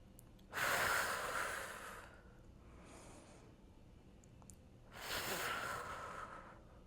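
Two long, breathy exhales during an at-home core workout, each loud and close, with a quieter breath between them and no talking.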